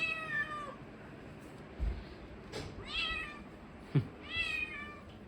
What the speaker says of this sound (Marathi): आमची मांजर